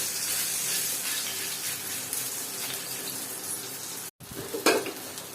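Thin-sliced cabbage fries in hot oil on a tawa with a dense, loud, continuous sizzle. It breaks off for a moment and returns with a brief scrape of stirring, and no one speaks.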